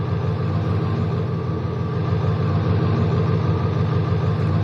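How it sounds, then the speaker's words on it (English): A truck engine idles loudly in a farming video game, a constant droning rumble with a steady low throb that holds unchanged and without pauses throughout. "That truck's so damn loud."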